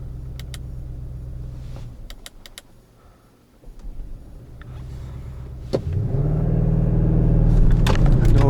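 An Audi RS6 Avant C8 in RS mode pulling away hard at night, the engine rumble building from a quiet idle into a loud, sustained roar, with a few clicks early on.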